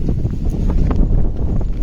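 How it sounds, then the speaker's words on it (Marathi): Strong wind blowing at the foot of a steep mountain in the Konkan countryside, a heavy, continuous low rumble with gusty buffeting against the microphone throughout. "तर इथे खाली इतका वारा आहे"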